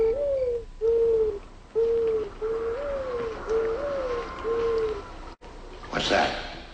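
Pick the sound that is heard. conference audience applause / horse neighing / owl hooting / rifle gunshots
owl hooting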